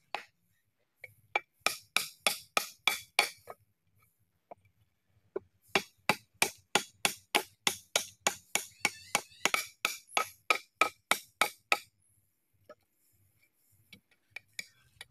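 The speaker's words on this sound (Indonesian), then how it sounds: "kita haluskan menggunakan parang sama ketam" Wood for a plastic-drum boat is smoothed with a machete and hand plane, giving bursts of sharp, crisp chopping strikes in quick rhythmic runs, separated by short pauses and ending in scattered single knocks.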